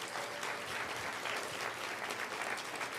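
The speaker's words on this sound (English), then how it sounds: "Let's give them another round of applause." Crowd at a live climate event claps after a performance, a brief burst of dense, continuous applause that is faint and distant.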